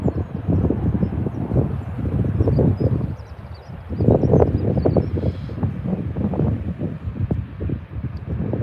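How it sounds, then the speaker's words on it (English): Gusty wind buffets the microphone in rough, uneven bursts at Birmingham Airport, a low rumbling flutter that rises and falls throughout, with no voices. "It's a bit windy here in Birmingham today."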